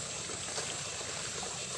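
A river flows along its bank in a steady, moderate rushing babble, continuous and even with no voices over it.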